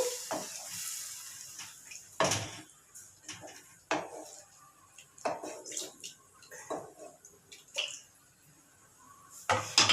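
Scattered scraping and clinking of a utensil stirring kadai biryani ingredients in a pot, irregular and fairly close, with a soft sizzle underneath.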